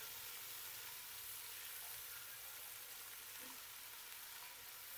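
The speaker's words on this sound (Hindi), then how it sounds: "अब लहसुन अदरक के पेस्ट को ऑयल में ब्राउन करूंगा" Steady, continuous sizzling of garlic-ginger paste and onions browning in hot oil, close and even throughout, with no voices.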